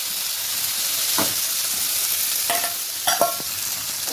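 Masala fries in a pan with potatoes and chickpeas, a loud, steady sizzling hiss broken by a few sharp metal scrapes from stirring.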